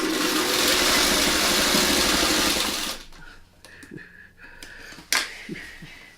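A sewing machine stitches quilt pieces together in a loud, steady whirring run for about three seconds, then stops, leaving quieter handling clicks and rustles nearby.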